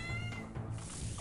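A cat meowing in the video game Old School RuneScape, with a couple of short, nasal meows at close range over a faint background hum.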